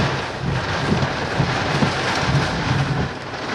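Rain falls steadily during a Tennessee thunderstorm, a dense hiss of drops with low rumbling swells of thunder and gusty wind, close and loud throughout.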